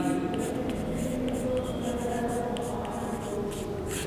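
Steady scratching of writing on a board during a Class 10 maths lesson on heights and distances, continuous and fairly close for about four seconds, with a faint murmur of the room underneath.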